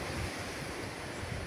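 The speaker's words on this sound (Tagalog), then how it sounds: "kusog kayo ang hangin guys o may uwan pero kusog ang hangin" Strong wind gusting over the sea with waves breaking, a steady, full roar of wind and surf with no voices.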